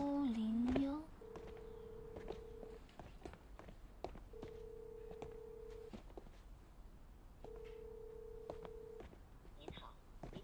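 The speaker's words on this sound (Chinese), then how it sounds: "您拨打的电话正在通话中，请稍后再拨" A phone call that cannot get through: a few short beeps, then three long, evenly spaced busy tones with pauses between, with a recorded voice heard near the start and end.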